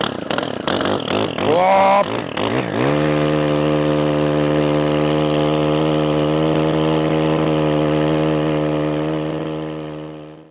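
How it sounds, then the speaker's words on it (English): A Stihl KM131 combi tool with a 36cc two-stroke 4-mix engine revs in rough bursts, then settles into a loud, steady, meaty drone close by; a brief exclamation is heard at the start. "The Stihl KM131 combi unit has a 36cc 2-stroke 4-mix engine."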